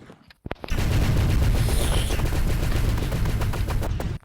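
Gunfire in the video game Chicken Gun, a couple of sharp shots followed by a dense, loud sustained burst of rapid fire lasting several seconds before cutting off, no talking.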